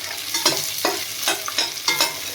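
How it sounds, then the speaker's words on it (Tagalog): Chicken feet with chili are stirred in hot frying oil, a rhythmic series of scraping strokes about twice a second over a constant loud sizzle. "Halo-haloyin ko muna."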